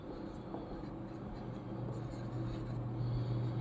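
A pen writes out an equation by hand, soft scratchy strokes in short bursts over a low steady background hum, faint and close.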